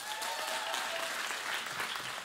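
Audience applause at a live a cappella concert, steady dense clapping from a crowd throughout, with a faint voice or two briefly audible near the start.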